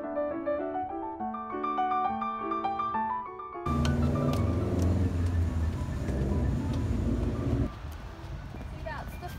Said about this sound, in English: See, that's the fast track bus that I used to take